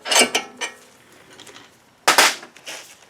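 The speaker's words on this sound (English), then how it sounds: "So I'm going to pull this bolt out" A bolt is worked out of a twelve-year-old Audi upper control arm, giving sharp metallic knocks and scraping clunks in two close bursts separated by quieter rattling, near and loud.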